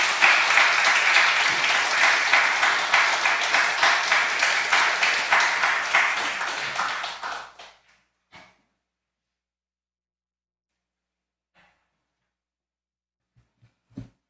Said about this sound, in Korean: 우리 선교사님 나오실 때 우리 박수로 맞아주시면 감사하겠습니다.